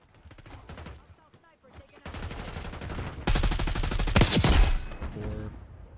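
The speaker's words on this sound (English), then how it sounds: "This AK jumps so much." Bursts of AK rifle fire in a first-person shooter video game build into a loud, rapid, sustained volley, with players talking over the shooting.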